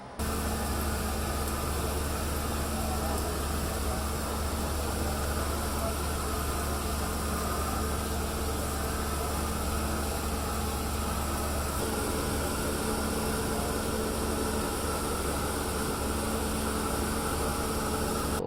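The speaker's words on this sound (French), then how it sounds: "the patcher, the machine we see behind me" A road pothole patcher machine runs nearby with a constant, loud mechanical drone and broadband hiss that holds steady from start to finish without a break.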